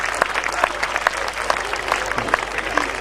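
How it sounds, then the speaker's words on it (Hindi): Audience applause at a Hindi poetry recital (kavi sammelan), a steady patter of many hands clapping in a hall, fairly even and sustained with a few sharper claps standing out. "पत्नियां ठीक तालियां बजा रही, पुरुष थोड़े गंभीर।"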